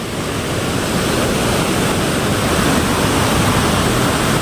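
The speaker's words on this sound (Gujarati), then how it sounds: "આ જો ને પાણી જાય તો કેટલું જોર પર જાય" Fast-flowing monsoon floodwater at a village fishing spot, a loud, dense, constant rushing roar close to the microphone, steady and unbroken with no talk.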